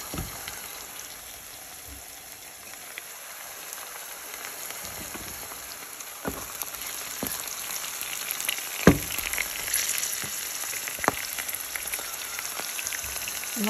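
Merguez sausages frying in a pan with onions, a steady crackling sizzle like light rain that grows a little louder partway through, broken by a few sharp pops and spatula taps, close, with no talk.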